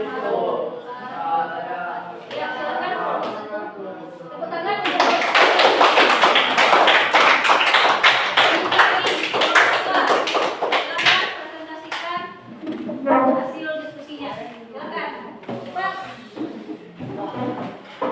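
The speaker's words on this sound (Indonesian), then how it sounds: "Tepuk tangan." Listeners at the close of a formal gathering break into lively, close clapping for several seconds, with people talking before and after it.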